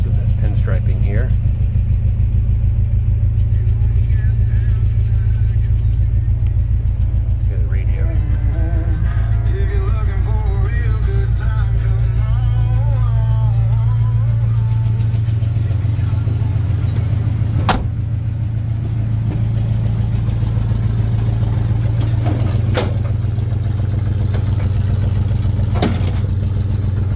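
A white 1972 Ford F100 pickup with a 302 V8 starts up and settles into a steady, rumbling idle. The engine drone runs throughout at close range, with a few sharp clicks and a person talking over it.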